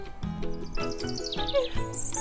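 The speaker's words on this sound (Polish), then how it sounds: "uwielbiam tą ciszę i śpiew ptaków" Chirpy cartoon birdsong in a Polish Lego Friends animation rises over steady tonal background music, with bright high tweets clustering near the end of the short stretch.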